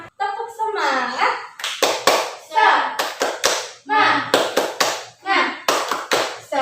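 A group of schoolchildren performs the rhythmic 'tepuk semangat' clapping chant in a class, sharp claps in a patterned sequence alternating with loud chanted voices, close and energetic throughout.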